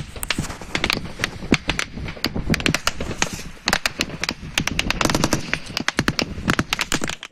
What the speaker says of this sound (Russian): на этом видео отчетливо слышна автоматная очередь